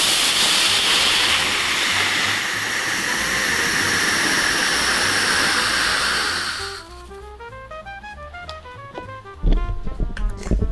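Homemade rocket motor firing on a thrust scale: a loud, steady roaring hiss for about seven seconds that then cuts off, followed by quieter clicks and a few sharp knocks near the end.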